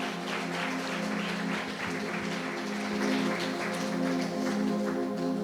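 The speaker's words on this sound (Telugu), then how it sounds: "గట్టిగా చప్పట్లు కొట్టాలి" An audience at a prayer meeting claps loudly and steadily throughout, a dense, continuous patter over a constant low drone, with no break in the applause.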